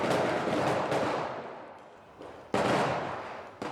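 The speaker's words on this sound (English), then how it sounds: "I'm confused by the gunfire constantly" Dense, continuous gunfire and blasts from a Ridley Scott war film, with sharp loud bursts cutting through a rumbling battle din; no talking.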